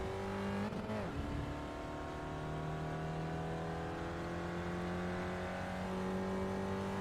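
An SCCA Spec Ford race car at Lime Rock Park powers out of a corner, its engine note climbing steadily in a loud, sustained onboard drone after a brief shift.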